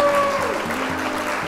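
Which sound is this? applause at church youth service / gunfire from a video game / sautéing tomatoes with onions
applause at church youth service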